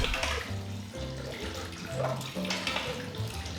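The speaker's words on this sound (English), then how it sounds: "Next, we'll place 500 grams of chilled water, which I have with some ice." Chilled water with ice is poured into a Thermomix bowl, giving a splashing, gurgling flow with irregular clinks and knocks running continuously for a few seconds.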